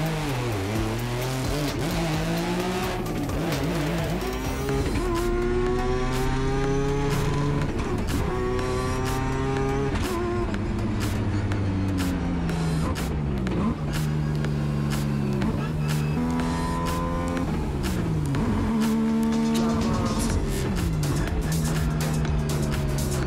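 A race car engine with pedal work underneath revs hard and loud through repeated rising and falling gear pulls, close and continuous, with people talking over it.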